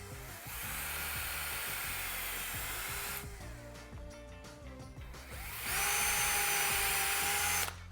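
A power drill bores into a wall while a bike rack is mounted, two long bursts of high whirring separated by a quieter pause with clicks and handling noises, close by.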